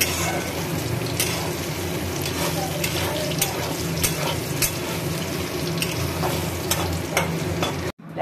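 Green banana pieces fry in hot ghee with a loud, steady sizzle and crackle, punctuated by scraping stirs in the pan until a sudden stop at the end.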